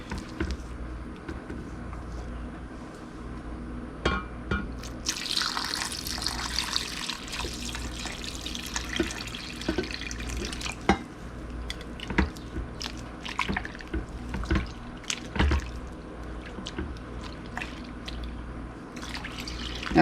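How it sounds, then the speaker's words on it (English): Water poured into a soap-making mixture hot enough to start burning at the sides, a steady splashing trickle with scattered drips and clinks over roughly twenty seconds, close and moderately quiet, with no talking. "So we're going to go ahead and add the water and then mix this up."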